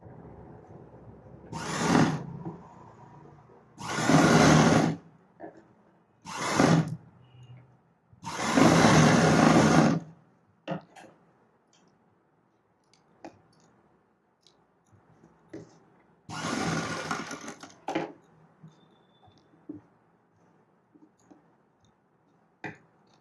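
An electric sewing machine stitches a blouse in several short bursts of a few seconds each, clattering rapidly and separated by quiet pauses with faint handling clicks.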